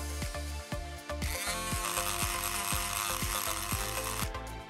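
Rotary tool polishing a piece of Baltic amber, a steady high-pitched grinding whine with repeated rhythmic clicking taps running through it, close and fairly loud throughout with no voices.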